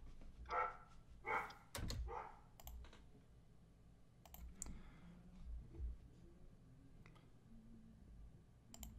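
A dog barks a few times in the background during a fan-game reaction session, with sharp bursts early on, then clicking and faint room noise.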